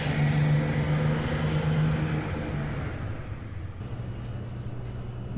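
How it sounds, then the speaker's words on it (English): A bus engine rumbles low and steady as the vehicle drives, with a droning hum that eases slightly and continues on its own without voices. "Bus."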